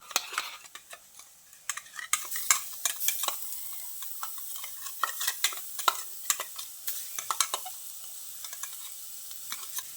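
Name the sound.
drumstick flower mixture added to frying potatoes, stirred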